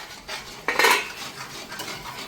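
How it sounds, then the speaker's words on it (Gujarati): Metal utensil stirring food in a pot during home cooking, a short scraping clatter with one louder burst in the middle, close and alone without talk. "હલાવતું રહેવાનું"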